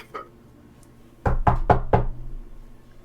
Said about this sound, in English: I politely knock on the front door